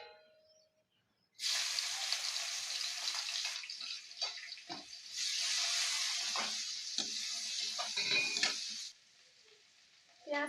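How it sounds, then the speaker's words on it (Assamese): Onions and two green chilies sizzle loudly in hot oil in a wok, with a steady hiss in two long bursts broken by brief scraping stirs and quiet pauses. "পিঁয়াজখিনি ৰঙচুৱা হোৱালৈকে এতিয়া মই ভাজি থাকিম।"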